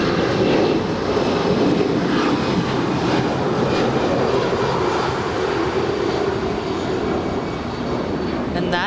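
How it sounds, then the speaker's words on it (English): Ten-year-old Alaska Airlines A320 jet taking off from LAX runway 25 right, a loud sustained engine roar filling the air throughout. "And that is Alaska 881 off to Seattle. It's a 10-year-old A320."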